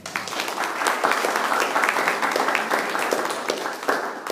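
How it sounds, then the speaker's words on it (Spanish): A church congregation breaks into steady, full applause that fills the room evenly for several seconds, many hands clapping together at close range with no talking over it. "queremos pedir un aplauso para don Jorge"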